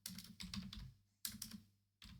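Keys of a computer keyboard being typed on in three quick bursts of rapid clicks separated by short pauses, close and fairly quiet, with no talking.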